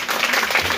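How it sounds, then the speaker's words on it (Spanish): A comedy show audience bursts into dense, steady applause, a close, loud wash of clapping with a faint murmur of voices in it. "Son los aplausos más fuertes que he escuchado en toda mi vida."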